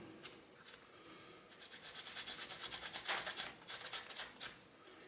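Rhythmic rasping strokes of a file scraping seam lines off an aluminium part of a 1/24 scale Airfix Spitfire model, starting sparse and building into a steady back-and-forth series, fairly close and alone.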